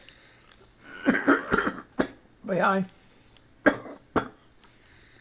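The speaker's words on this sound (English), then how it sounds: "I knew he was going to cough." A few sharp, close coughs in quick succession during a live radio broadcast, with a brief stretch of speech among them.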